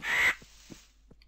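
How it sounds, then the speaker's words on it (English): A single harsh raven caw in a modded Minecraft game, loud and close, followed by a few faint soft clicks and thuds. "The raven."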